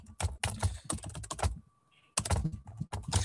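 Fingers type quickly on a computer keyboard nearby, a dense run of key clicks that stops for a brief pause and then resumes. No one speaks.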